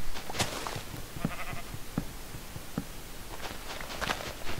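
Sheep bleat in the Minecraft video game, several short bleats scattered among soft in-game footsteps, moderately quiet and with no speech.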